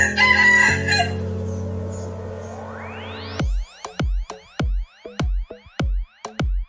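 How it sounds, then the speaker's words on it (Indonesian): A rooster crows, then a series of sharp, synthetic-sounding clucks repeats in a quick rhythm; the sounds are loud and close. "Ini adalah ayam."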